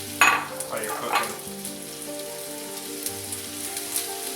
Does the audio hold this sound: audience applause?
no